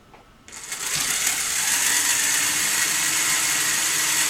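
Motor of a spinning Lego fair ride with swinging seats starting up, a sudden steady whirring mechanical drone that jumps in and holds loud and even.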